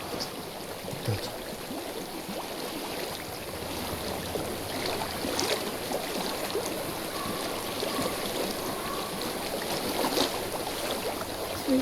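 A stream in Hellblade: Senua's Sacrifice flows with a continuous, moderately loud watery rush and trickle that stays steady throughout.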